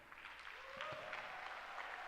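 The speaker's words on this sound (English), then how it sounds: "giving a rousing round of applause to the persons that have safely got to this point" Audience applause at a tourism service excellence awards ceremony: a steady, dense wash of clapping that holds at even loudness throughout, with a brief voice briefly audible.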